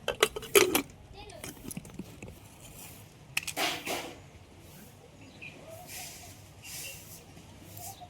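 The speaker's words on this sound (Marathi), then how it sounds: "झाकण लावून घेतो." Metal lid clattering onto a pressure cooker holding dal and water, a few sharp clanks and scrapes near the start and middle, with soft handling noises afterward.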